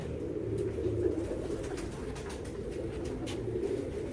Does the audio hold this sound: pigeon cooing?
yes